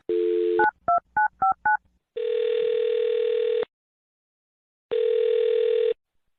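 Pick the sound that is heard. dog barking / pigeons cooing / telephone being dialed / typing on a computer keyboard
telephone being dialed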